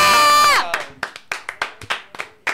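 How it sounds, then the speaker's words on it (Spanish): Scattered, uneven clapping from a small audience at a comedy show's award moment, with loud sustained voices at the start giving way to sharp, irregular claps and faint crowd noise. "Un aplauso, por favor"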